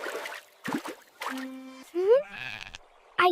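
Sheep bleating in short, wavering calls, several separate bleats spaced through the brief clip, fairly close and clear, with quiet gaps between and some background noise.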